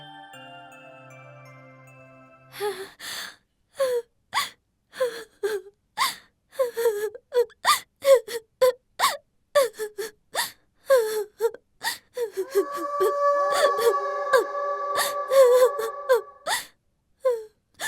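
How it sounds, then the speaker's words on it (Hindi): A woman in a Hindi horror cartoon cries and moans, letting out repeated sobbing gasps and wails in short rhythmic bursts, close and clear. Eerie tinkling tones play softly behind her, with a sustained chime near the end. "कौन कौन रो रहा है यहाँ पर?"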